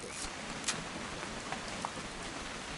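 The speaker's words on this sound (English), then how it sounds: "It's gonna rain the whole weekend, isn't it?" Steady rain patters across the whole stretch, a dense hiss with a few sharper drops standing out, no voices.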